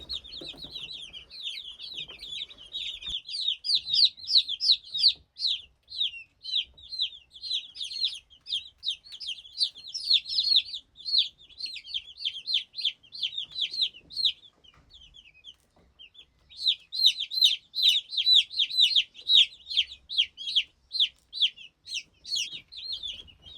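A brood of chicks kept under a lamp on a village farm cheeps in rapid, high-pitched bursts, dense continuous chirping nearby with a short lull midway before resuming just as busily.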